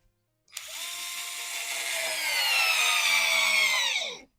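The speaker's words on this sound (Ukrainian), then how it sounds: "Пробуємо не з торця, а зверху крутити цією викруткою." A WORX WX242 cordless screwdriver at maximum setting drives a 25 mm screw into ash wood, a steady close motor whine lasting about four seconds that rises slightly as the screw bites, then cuts off abruptly.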